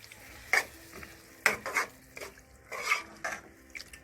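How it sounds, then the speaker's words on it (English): A spoon scrapes and knocks against a pot of pepper steak with ketchup, producing several distinct clanking strokes in an uneven rhythm over a quiet background sizzle, with no speech. "I'm gonna add some ketchup in the steak because it's almost finished cooking now."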